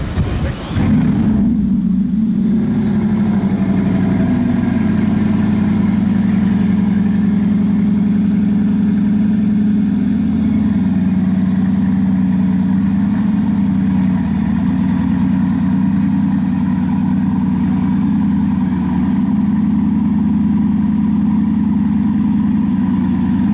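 A Bugatti, the world's fastest production car, fires up with a sharp start and settles into a loud, steady, deep idle that drones on unbroken and close by, with no talking.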